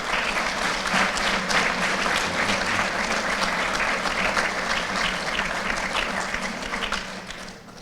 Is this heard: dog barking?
no